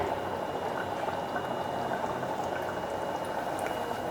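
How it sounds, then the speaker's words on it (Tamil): Two spoons of coconut oil heat in a pan for tempering a banana stem and chana dal kootu, giving a steady close bubbling sizzle with no talking. "தாளிக்கிறதுக்கு வந்துங்க 2 ஸ்பூன் தேங்காய் எண்ணெய் ஊற்றிக்கலாங்க."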